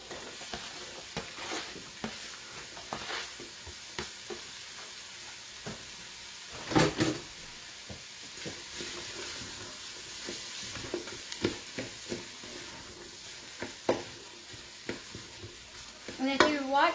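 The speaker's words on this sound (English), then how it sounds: "I'm just sauteing up the Italian sausage. I'm gonna go ahead and add the chopped onion." Italian sausage and chopped onion sautéing in a pressure cooker, a steady soft sizzle with a spoon scraping and stirring in sharp intermittent clatters, one louder clank partway through.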